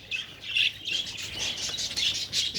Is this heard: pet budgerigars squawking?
yes